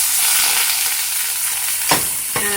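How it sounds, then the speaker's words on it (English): Spinach and garlic sautéing in extra virgin coconut spread make a steady, close sizzle, with a stir or two near the end. "the next step in the process is to saute some spinach, and I'm using some extra virgin coconut spread"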